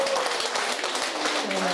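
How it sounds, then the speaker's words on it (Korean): Audience applause in a school presentation setting with elementary students, a brief wash of clapping that is fairly soft and steady and fills the short moment alone. "큰 박수 보내줍니다."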